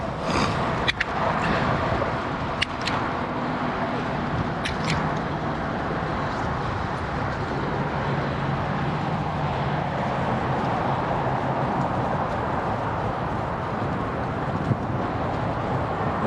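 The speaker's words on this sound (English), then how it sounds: "Cars are noisy. Listen to that." Steady broadband roar of freeway car traffic heard from a roadside while cycling, continuous and fairly loud with wind buffeting the microphone and no voices.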